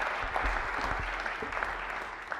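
An audience at a college year-end celebration claps in a steady, dense wash of applause that holds at an even level for a couple of seconds, heard from within the room.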